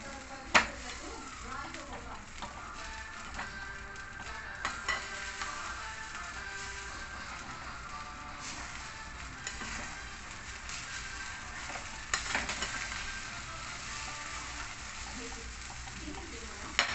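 A pan of upma made with flour and semolina simmers on a low flame, giving off a soft, steady sizzle with occasional faint scrapes of stirring.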